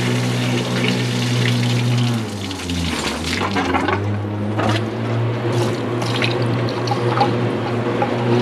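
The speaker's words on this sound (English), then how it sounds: "I'm just going to flush some water through" Water rushes and gurgles steadily through a pipe on a classic Mini Clubman Estate, with a low mechanical hum underneath and occasional splashing surges.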